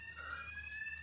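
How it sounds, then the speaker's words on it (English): A fire alarm sounding inside a building, a steady high electronic tone, faint and held continuously in the background. "That is a fire alarm."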